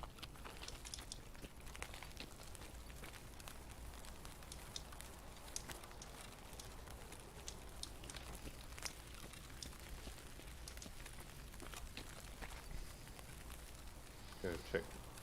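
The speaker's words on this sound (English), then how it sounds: "The game just started raining, like, as I was running around outside" Rain falls steadily in Escape from Tarkov, a soft, continuous patter across the whole stretch with scattered small ticks and drops, faint and distant-sounding, while a voice talks quietly now and then.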